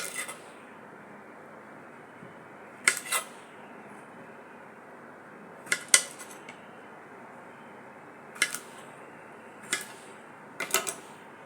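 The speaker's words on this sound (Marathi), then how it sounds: "आता आपण घोसाळे चिरून घेऊया।" A knife slices through tender ridge gourd on a board, with about six separate crisp cuts spaced a few seconds apart over a quiet kitchen background.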